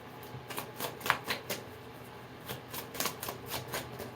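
Tarot cards being shuffled by hand up close, a series of quick riffling bursts and soft slaps in an uneven rhythm.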